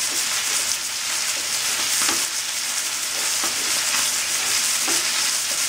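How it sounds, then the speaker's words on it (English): Beef brisket searing on a stovetop pan gives a steady, loud, close sizzle with constant high hiss and a few soft clicks, no voices. "There's nothing like the sizzle of meat"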